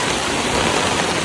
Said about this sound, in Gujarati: કેટલા બધા બહુ દમદાર વરસાદ આવે છે.